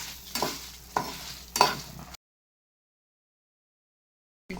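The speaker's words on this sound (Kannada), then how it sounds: "ಈಗ ಅದನ್ನು ಲೋ ಫ್ಲೇಮಲ್ಲಿ ಸ್ವಲ್ಪ ಹುರಿಸಬೇಕು, ಅಂದರೆ ಸ್ವಲ್ಪ ಅದು ಫ್ರೈ ಆಗಲಿ" Byadagi red chillies dry-roasting in a pan over a low flame, heard as three close, rough scraping stirs with a faint crackle, then sudden total silence until a brief return at the very end.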